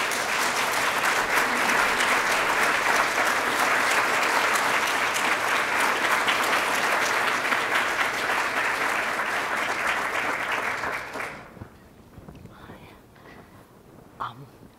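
Sustained audience applause welcoming lecturer Cynthia Enloe to the podium at the Charles Homer Haskins Prize Lecture, a dense, steady wash of clapping for about eleven seconds before it quickly dies away into quiet room noise.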